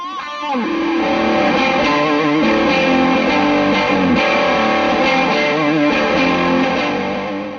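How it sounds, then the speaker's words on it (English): A loud electric guitar plays through a TC Electronic MAGUS Pro high-gain distortion pedal, heavy saturated distortion, sustained chords ringing thick and buzzing, alone without any talking. "a distortion pedal with huge possibilities but a tiny footprint"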